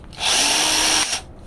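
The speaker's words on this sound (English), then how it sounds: "cordless drill." A cordless power drill spinning a flywheel in a stator whirs steadily at high speed for about a second, starting and stopping abruptly, with no talking.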